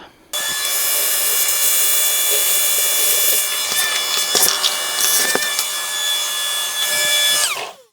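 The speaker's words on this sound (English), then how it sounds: "I'm going to grab my shop vac so I can contain the dust while I'm drilling." Loud power drill boring holes during setup of a Dillon RL1100 reloading press, whining continuously alongside the steady roar of a shop vac collecting dust, with brief pitch dips and bursts as the bit bites.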